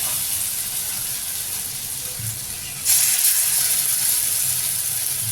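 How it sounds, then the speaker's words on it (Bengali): Poppy seed fritters (posto bora) are frying in hot oil, a steady close hiss and sizzle that jumps louder partway through as more batter goes in, with no talk. "দিয়ে এবার আমি পোস্তর বড়াটা ভাজবো।"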